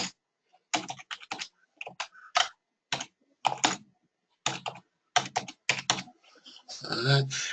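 Password being typed on a computer keyboard: bursts of close, crisp key clicks in irregular clusters with short pauses, ending in a longer, heavier run of keystrokes.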